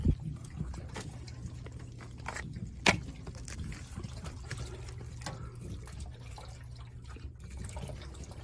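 Soft, irregular dripping and trickling of water leaking inside a dryer vent, with a low steady hum underneath and one sharper tap partway through, quiet and close.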